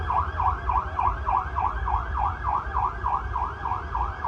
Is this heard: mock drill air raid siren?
yes